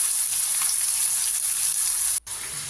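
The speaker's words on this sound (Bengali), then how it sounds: "নিয়ে এবারে মাছগুলো আস্তে আস্তে ভেজে তুলব, মিডিয়াম আঁচে ভাজবো।" Pomfret fish fry in hot oil in a nonstick wok over medium heat, giving a close, loud, steady sizzle with a brief cut-out near the end.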